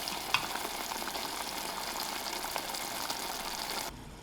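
Chickpea chutney with salt and tomatoes sizzles and crackles steadily in a pan as it is stirred, a soft continuous frying texture with a faint scrape, cutting off near the end.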